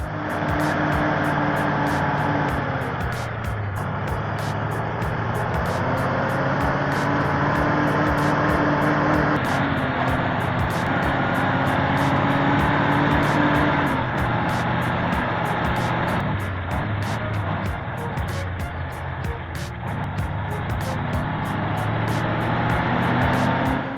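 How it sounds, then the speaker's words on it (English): A heavily loaded timber truck strains on a snowy road with its wheels spinning, giving a continuous loud engine drone with wavering pitch and a rapid ticking rattle running through the whole stretch, no voices. "In harsh weather, this truck is straining to carry a load full of timber across an equally unforgiving road."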